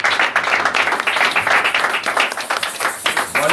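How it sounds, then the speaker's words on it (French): A church congregation breaks into loud, dense applause, steady rapid clapping from many hands filling the room without pause. "Acclamons pour la gloire du Seigneur."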